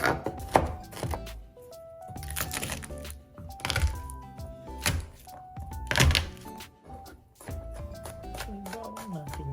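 A knife chops through fish on a cutting board in irregular bursts of sharp knocks and thuds, close and fairly loud, with kitchen clatter between strokes.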